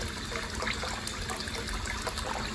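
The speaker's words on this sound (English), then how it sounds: "Rainwater from the roof comes to the pond through this tube." Rainwater from a roof pours and splashes steadily out of a tube into a pond, a continuous gushing trickle with no voices.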